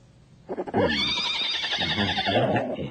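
A horse whinnies loudly and at length close by, a shrill, wavering neigh after a brief quiet start, in an animated film.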